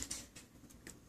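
A few soft, sparse taps on a computer keyboard sound close but faint, with no talking over them.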